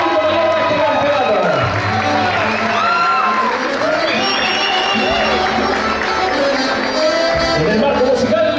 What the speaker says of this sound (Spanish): La única pareja que lo ha recibido con este grandioso y fuerte aplauso